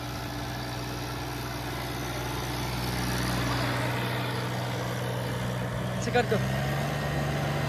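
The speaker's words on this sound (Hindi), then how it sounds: "ये देख लो भाई, महिंद्रा ओझा रोटावेटर पे चल रहा है ऑटोमेटिक मोड के ऊपर।" A Mahindra Oja 2127 4WD tractor runs a rotavator in automatic mode, its engine giving a steady, close, rumbling drone throughout while someone talks over it.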